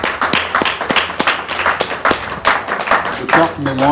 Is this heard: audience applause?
yes